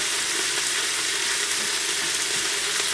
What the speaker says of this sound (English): Now we're just going to stir them up and kind of saute these just a little bit in the bacon grease.